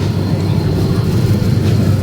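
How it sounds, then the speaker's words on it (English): Jet aircraft passing over Willow Springs Raceway during a drift event, a steady, loud low roar that fills the whole stretch without letup. "Oh, jet's back on."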